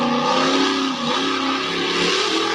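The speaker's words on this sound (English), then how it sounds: "it's one of our local pullers here with a 613 naturally aspirated Chevrolet big block in his Mini" Mini pulling vehicle powered by a 613 naturally aspirated Chevrolet big block, roaring loud and steady with a rich harmonic engine note that dips briefly and then climbs again.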